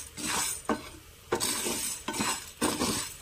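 Black gram (urad dal) dry-roasting in a pan on a stove, a steady close rattle and sizzle broken by several sharp scrapes of stirring at regular intervals, with no voices.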